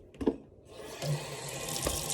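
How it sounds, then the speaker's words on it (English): Water runs from a kitchen sink tap at low flow, a faint steady hiss and trickle that swells slightly after a soft clink near the start. "I'm going to put some water in it, and it doesn't have to be on high, it can just be on where it's dripping a little bit"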